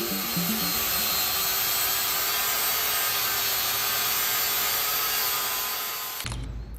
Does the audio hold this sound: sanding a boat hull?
yes